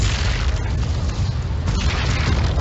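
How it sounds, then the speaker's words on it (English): A nuclear strike detonates in StarCraft II, a sustained deep rumbling boom that holds loud and steady throughout with faint crackles on top. "The nuke is going to run, and it's going to take out the Overseer at the same time"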